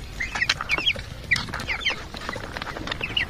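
Small chicks at a rural village home give quick, high peeping clucks in scattered bursts, close by over a quiet outdoor background.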